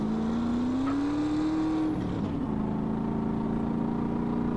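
A car cruising steadily at 120 km/h in GTA San Andreas, a constant engine drone with a sustained tone that shifts slightly midway, loud and continuous with no talk.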